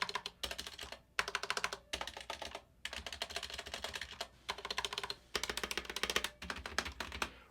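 Corsair K70 TKL mechanical keyboard, black unit stock out of the box, typed on over a desk mat: fast, close clacking keystrokes in bursts separated by short pauses, with no talking.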